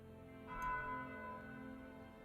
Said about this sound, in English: Distant church bells chime the hour.